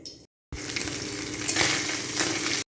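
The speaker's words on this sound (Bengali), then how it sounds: "কড়াই তেল দিলাম, তো মাছ ভাজাটা করে নিই।" Fish dropped into hot oil in a wok, a loud bright sizzle that starts after a short gap and crackles steadily, with occasional spitting pops, then stops abruptly.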